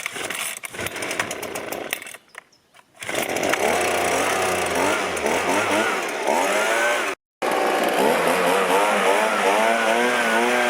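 A Yamaha RZ350 two-stroke motorcycle engine runs loud and close, its raspy buzzing note rising and falling with throttle blips, broken by two short cuts.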